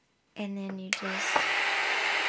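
A heat gun blasting hot air to melt candle wax, a steady loud broadband whoosh that cuts in abruptly with a brief click and then runs on continuously, with a short tonal hum just before it.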